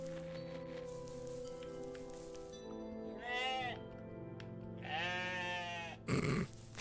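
Rams in the OneShot video game let out two drawn-out, wavering bleats a couple of seconds apart over a quiet background hum, followed by a short burst of louder noise.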